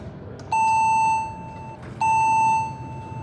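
Two clear electronic chime tones from an Otis elevator at the Hyatt Regency O'Hare in Rosemont, Illinois, each a steady bright ding held under a second and fading, sounding close against a quiet lobby hum.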